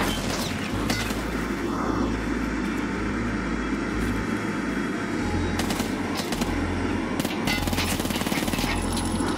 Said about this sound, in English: That's a real player shooting at me.